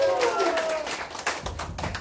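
A seated audience at a seniors' school gathering in Korea claps to welcome an instructor, a short burst of quick, fairly soft applause.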